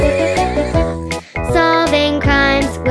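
A horse whinnies loudly in a nursery-rhyme song about joining the police force and riding a white horse, with two long neighs separated by a brief pause, close and clear over the music.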